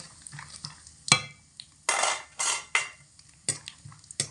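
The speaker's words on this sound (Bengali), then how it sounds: "এর মধ্যে আমি দিয়ে দেব কিছুটা পরিমাণে কাঁচা বাদাম, দিয়ে একটু লাল লাল করে ভেজে নেব" Raw peanuts frying in mustard oil in a wok, stirred with a spatula in several loud scraping bursts against the metal, with a faint sizzle underneath and clinks between strokes, close and without speech.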